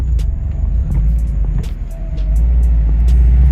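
Car with a manual transmission accelerating through the gears, a steady loud low engine rumble close by, easing slightly mid-clip before building again, with no talk.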